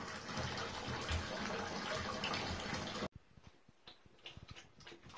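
Tap water running into a bathtub for a puppy's first bath, a loud steady gush that cuts off abruptly midway, leaving quiet drips, splashes and small knocks.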